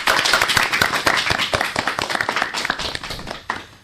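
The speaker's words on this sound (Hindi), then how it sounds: "तो चलिए हम इन नन्हे कलाकारों का स्वागत करते हैं तालियों की गूंज के साथ।" An audience claps to welcome child performers at a school programme, a loud burst of dense applause that gradually thins and fades.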